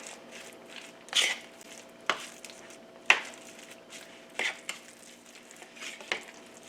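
Ground chicken is mixed by hand with honey, mustard and herbs, giving soft, wet squishing and stirring sounds with a few sharper clicks scattered throughout, fairly quiet and close, with no talking.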